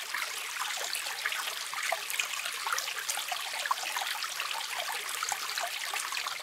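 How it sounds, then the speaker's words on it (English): Getchell Brook in Maine, a creek babbling over its stony bed, a close, steady rush and trickle of water with no pauses throughout. "Sitting down here in the creek bed, stream just babbling away behind me."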